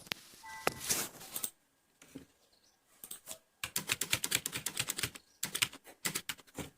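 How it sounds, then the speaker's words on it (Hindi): A computer mouse clicks on one checkbox after another, making crisp, close clicks. They come in scattered singles, then in quick clustered bursts with short pauses between. "सिंपली हम यहाँ से इसको क्लोज करके इन सभी चेकबॉक्स पर क्लिक करेंगे।"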